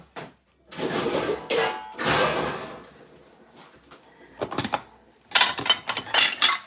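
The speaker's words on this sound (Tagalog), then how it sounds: "hugas ako ng plato" Plates being washed by hand: scattered clinks and clatters of dishes, with bursts of running water and the scrape of crockery, irregular and close, with quiet pauses between.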